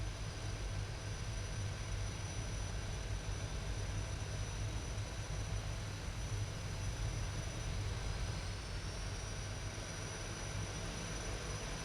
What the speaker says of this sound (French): on a démarré les moteurs